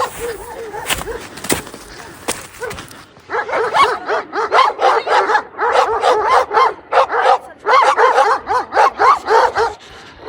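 Several dogs bark and yip in rapid, repeated bursts, loud and close, with some voices and noise at the start before the barking takes over.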